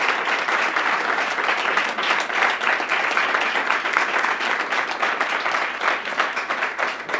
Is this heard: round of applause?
yes